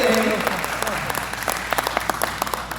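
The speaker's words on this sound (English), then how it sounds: "Clap, clap, clap, clap, clap." A Rotary district conference audience claps in a dense, even patter that carries through the short stretch, with a voice speaking briefly at the very start.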